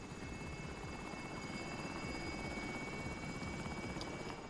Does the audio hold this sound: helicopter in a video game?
yes